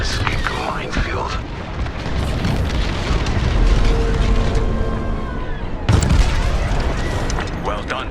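A corvette blowing up in the Star Wars Squadrons space-combat game: deep rumbling explosions and blasts under a steady roar of starfighter engines, with a sharp new burst near the end.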